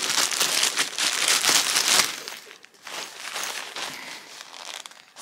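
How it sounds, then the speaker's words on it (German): Crinkly plastic packaging rustles and crackles loudly as a small beer backpack gift is unwrapped, a continuous close-up crumpling that eases off midway and then carries on. "Ich werde den auspacken."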